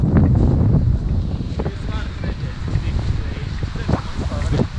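Strong wind buffets the microphone outdoors, a loud continuous low rumble with gusty swells, and occasional voices speak under the roar.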